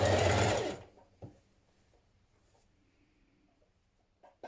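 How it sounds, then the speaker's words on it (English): A sewing machine runs in one short, loud burst lasting about a second while top stitching a knit hem with a twin needle, followed by quiet with faint handling clicks. "I'm going to top stitch it from the top with the twin needle again for the hem"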